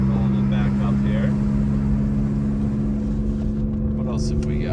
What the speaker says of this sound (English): Hear the exhaust a little better there.